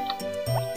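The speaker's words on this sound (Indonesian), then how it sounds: "Kita akan isi dulu alat siramnya." Water fills a watering can in Harvest Moon: Back to Nature, a short cartoonish liquid gurgle and drip effect over a steady tonal game background.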